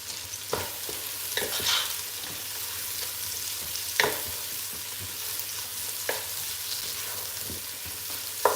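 Onions fry in a pan while being stirred for Nigerian meal prep, a soft constant sizzle broken by occasional scraping strokes of the spoon, fairly quiet and close with no talking.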